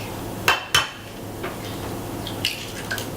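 An egg is cracked against the rim of a bowl of wet pie dough ingredients, giving two sharp close taps, then faint drips and a few soft clinks, with no voices.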